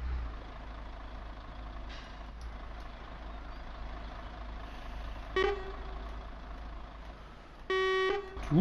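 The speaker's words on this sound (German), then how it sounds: "Hupe hört sich schon mal schon laut an." A low truck engine drones steadily in a truck driving video game, then a loud horn sounds twice: a short honk followed by a longer blast near the end.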